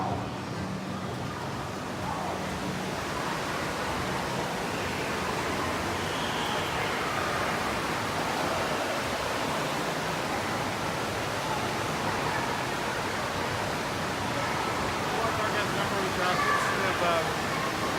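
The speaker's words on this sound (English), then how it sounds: "This is the water park." Rushing water at an outdoor water park with tube and body slides makes a dense, constant roar from start to finish, broad and unbroken.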